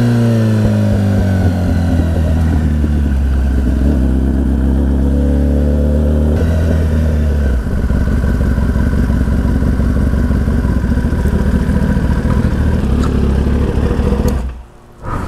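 A 2021 Kawasaki ZX-10R 1000cc sport bike engine revs loudly and close up, a sustained droning roar that rises and shifts in pitch for about fifteen seconds before cutting off abruptly.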